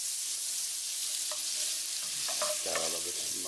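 Butter and olive oil heat together in a pan over medium heat, giving a continuous bright hiss and sizzle with a few small pops and utensil clinks toward the end.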